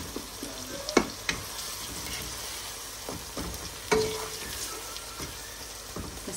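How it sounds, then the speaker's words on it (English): Onions sizzle and fry in a pot with bay leaves, cardamom and cinnamon sticks for a chicken curry, giving a steady crackling hiss broken by a few sharper clinks and spoon stirs, close and alone with no talking. "Let's cover it up and let the onions cook."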